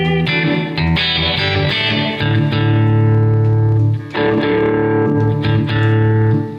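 A guitar through a 20-watt Blackstar amp on its stock 6L6 warm clean preset, with a splash of reverb: sustained, ringing chords strummed loudly, each fading into a reverb tail.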